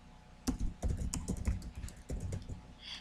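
Fingers tap out keystrokes on a computer keyboard in quick irregular bursts of close clicks, with brief pauses between runs, fairly quiet overall.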